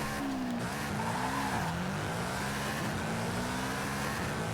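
A tuned Toyota GR86 race car engine in the video game Forza Horizon 5 roars steadily at high revs, its pitch sliding up and down as it shifts, loud and continuous without speech.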